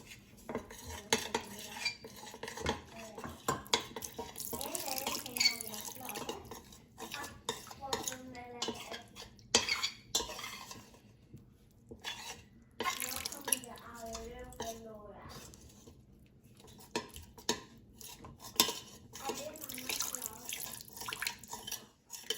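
A spoon stirs a cornstarch and water mixture in a pot with 1.5 liters of water, clinking and scraping against the metal in repeated strokes amid watery sloshing, close and fairly loud.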